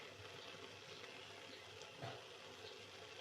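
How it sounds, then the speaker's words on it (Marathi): Water is poured into a pot of sautéed masala rice and soybeans being cooked, a soft steady rushing pour at low level with a slight surge partway, no talk. "त्यात पाणी टाकून घेते."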